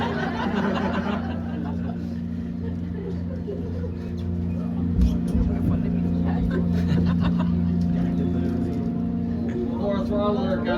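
An Everglades tour boat engine, a loud steady drone with strong low harmonics, rises in level about halfway through as the throttle opens, with people talking over it.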